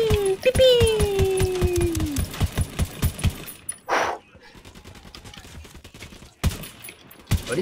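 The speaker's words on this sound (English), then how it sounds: "Is he shooting at me?" Rapid bursts of automatic gunfire and single shots in the video game Ghost Recon Wildlands, loud and close, with pauses between volleys while a player talks over them.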